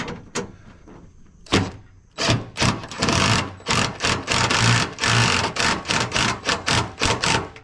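Impact wrench driving 9/16 bolts through a scrap trailer's new deck, heard as a rapid run of loud, close hammering bursts of rattling impacts separated by short pauses, with no talking.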